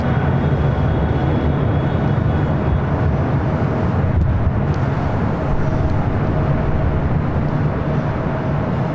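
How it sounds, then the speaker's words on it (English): A Boeing 777 freighter taking off from runway 25 left at LAX, a loud continuous low roar of jet engines with heavy rumble and some wind noise, steady throughout. "777 freighter taking off on 25 left."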